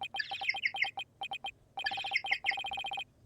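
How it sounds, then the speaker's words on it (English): Bird-like phone ringtone in a video game: bright, rapid chirping trills repeating in two clear bursts with a short pause between, loud and alone. "That's my ringtone."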